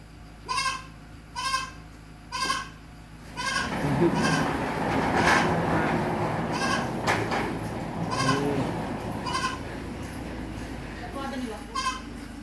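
Goats bleat in a series of close, distinct cries, with a noisy stretch of louder background rumble in the middle and more bleats near the end.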